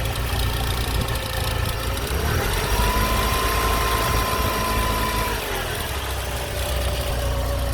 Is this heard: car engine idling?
yes